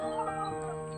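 Chickens cluck close by on a farm, a short burst of soft clucking with a steady background hum.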